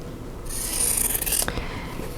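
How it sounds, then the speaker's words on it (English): Fabric being trimmed with a Clearly Perfect slotted trimmer while making quilt blocks: a steady, close rasping cut lasting about a second, then a few light handling taps, with no voice. "then I'm going to trim them with my Clearly Perfect slotted trimmer"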